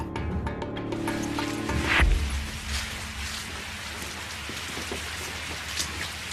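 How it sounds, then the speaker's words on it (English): Steady rain falls as a continuous wash of hiss and patter, with music fading out at the start and a brief louder swell near the beginning. "Then it started to rain."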